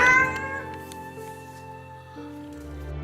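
A cat lets out a drawn-out, tonal meow toward its owner, close and fairly clear, followed by a second softer, sustained cry over a low steady background.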